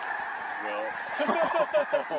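Geese and ducks honk in a steady chorus, and the calls grow busier and more agitated as the spooked waterfowl take flight from a drone flying overhead, with a brief voice exclaiming.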